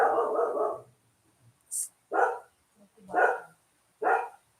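A little dog on a farm barks four times in separate loud, close bursts with short pauses between them.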